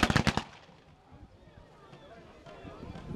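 A rapid burst of sharp gunshots at the start, then quieter rumbling background noise with faint distant pops, from infantry firing in a depiction of the Battle of the Alma.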